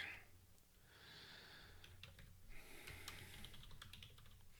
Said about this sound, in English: Pardon my typing as I do this.